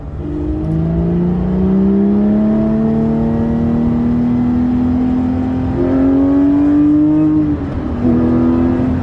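A Porsche 997.2 GT3 RS engine pulls hard through the revs, its tone climbing steadily over several seconds, briefly dropping at a shift and then rising again, loud and close with no talking.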